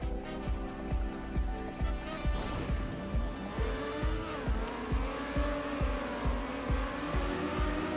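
Race car drifting through a corner in the Trackmania Nations video game, a loud continuous engine drone with rising and falling pitch and tire squeal, pulsing with steady rhythmic beats throughout.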